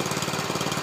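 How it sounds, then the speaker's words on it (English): An Ariens 8524 snow blower with a roughly 8-horsepower engine runs steadily and loudly up close, its rapid, even chugging pulse continuing without a break. "we're going to do a little snow blowing video with the Ariens"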